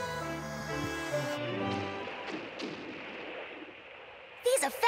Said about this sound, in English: You can practically smell smoke for real every time they fire their cannons.